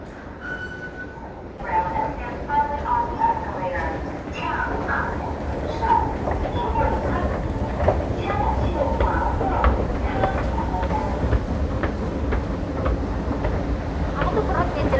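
An MRT metro train at a station in Indonesia gives a steady rumbling roar with rhythmic rail clatter that builds after a quiet start and carries on, loud and close, with people talking over it.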